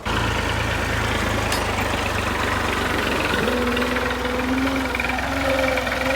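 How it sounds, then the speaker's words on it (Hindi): A tractor engine runs continuously while pulling a leveling plank across a farm field, a loud, steady low diesel drone with knocking vibration and a slight shift in pitch partway through. "सुहागा लगाना शुरू कर दिया ट्रैक्टर वाले ने।"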